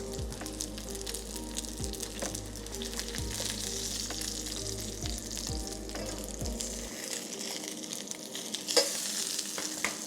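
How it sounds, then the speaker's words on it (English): A steak searing in oil in a pan, a steady close crackling sizzle with light spattering and occasional soft thumps as it is pressed, alone without talk. "Just gonna apply a little bit more pressure to this side where I see it needs searing."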